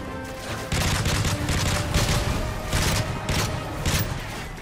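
A grenade explosion and gunfire in the shooter game Call of Duty: Modern Warfare 3, a sequence of loud repeated blasts and shots in fairly regular bursts, dense and close with no talk over it.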